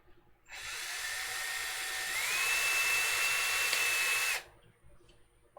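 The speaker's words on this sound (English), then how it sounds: "Finish drilling this now." Power drill boring holes while finishing a Mega Tron i3 build, a single sustained high whine lasting about four seconds that rises slightly in pitch midway, close and loud, then cuts off abruptly.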